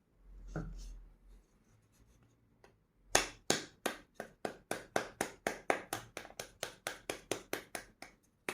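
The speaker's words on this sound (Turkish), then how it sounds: "Sonra kaşık yardımıyla ters çeviriyoruz. Vuruyoruz." Spoon tapping the back of a halved pomegranate held upside down to knock out the seeds, a quick run of about twenty sharp, evenly spaced knocks, close and clear after a quiet start.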